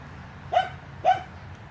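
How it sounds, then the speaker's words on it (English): A dog barks twice, two short, sharp barks about half a second apart, heard at moderate distance over a quiet background. "I wish my dog would be quiet"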